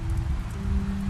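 Rain pours steadily in The Wolf Among Us, a loud close wash of drops over a low rumble and faint droning tone.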